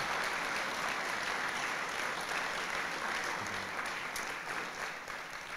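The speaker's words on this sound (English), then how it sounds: "So how about a big round of applause for Patrick Acuna and what he's done for us?" Sustained applause from a large audience at a guide dog graduation ceremony, steady broadband clapping filling the room for several seconds and easing slightly toward the end.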